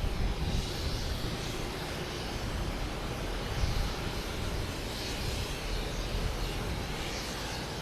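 A Condor airliner taking off on runway 22 right at Boston Logan: a steady, fairly distant jet engine roar, broad and continuous, slowly swelling and easing without pause.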